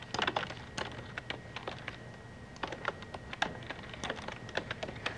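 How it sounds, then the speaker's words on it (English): Typing on a computer keyboard while entering text in WordPerfect 6.0 for Windows in 1994: quick, irregular key clicks, close and fairly quiet, over a faint steady electrical hum. "Let's select this and type our own text."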